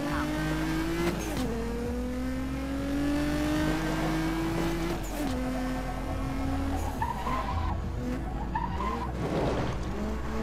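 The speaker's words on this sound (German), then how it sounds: "aber ich genieße gerade einfach mal diesen Sound von dem Wagen." Sports car in the racing game Need for Speed Most Wanted, its engine revving loud and steady, the pitch climbing and dropping through gear shifts with tire skids, a constant close roar with no talk over it.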